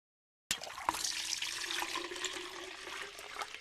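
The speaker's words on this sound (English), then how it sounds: "Pour the water into the stock pot." Water from a gallon container poured into a stock pot of bones in a cooking video game, a sudden start after brief silence, then a steady close splashing pour with a faint tonal ring running under it.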